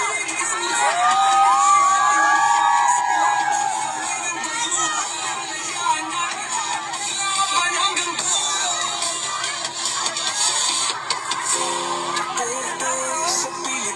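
A large crowd of Duterte supporters at a rally shouting and cheering, a loud sustained roar of many voices with rising yells and whoops, steady and dense from start to finish.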